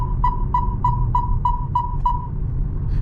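Seven quick, evenly spaced electronic beeps at a steady pitch from a 2024 Proton X90's turn indicator blind spot warning sound over a low engine rumble, then stop.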